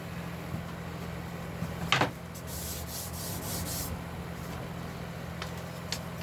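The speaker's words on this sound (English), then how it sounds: "So we'll get on and sand this back" Sandpaper rubbing back the fret marker dots on the fretboard of a 1958-style Flying V guitar build: soft, steady scratchy strokes with one sharper scrape partway through, close and alone.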